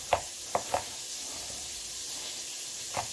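Knife chopping bell peppers in a home kitchen, cutting them in half: three sharp board taps close together near the start, then a quiet pause and one more chop near the end, over faint room hiss.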